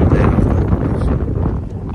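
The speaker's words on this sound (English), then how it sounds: "today I think it's windy" Outdoor wind buffets the microphone during a neighborhood walk, a steady, loud, low rumble that fills the whole moment without a break.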